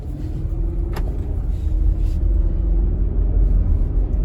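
A used 2020-or-older SUV engine idles, a steady low rumble heard from close by and alone.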